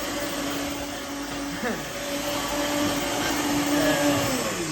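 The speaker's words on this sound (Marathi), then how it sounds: "अशा प्रकारे थोड्या वेळाने मिक्सर बंद करायचे" An electric mixer blends a milkshake in a cup, a steady whirring motor drone with a slightly wavering pitch running close and continuously the whole time.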